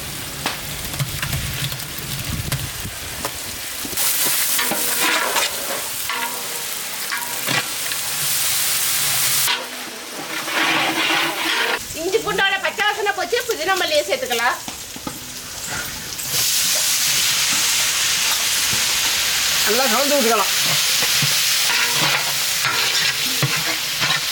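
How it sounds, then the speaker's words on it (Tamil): Onions and green chillies sautéing with ginger garlic paste in a pan, a continuous loud sizzle and hiss with repeated stirring scrapes, changing in intensity as ingredients are moved around. "வெங்காயம் பச்சை மிளகாயெல்லாம் பொன்னிறமாக வதங்கிட்டு அது கூட இஞ்சி பூண்டு பேசி சேர்த்துக்கலாம்"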